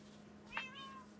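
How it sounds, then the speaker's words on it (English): A cat in Minecraft 1.18 gives a single short, faint meow against a low steady hum. "Okay, come here, cat."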